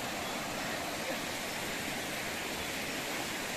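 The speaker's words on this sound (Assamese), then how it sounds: "আৰু এইয়া তাৰ পৰা পানী আহি আছে।" Stream water flowing down a hillside near Kakosang waterfall, a steady dense broadband rush that stays constant and fairly loud throughout, with no speech.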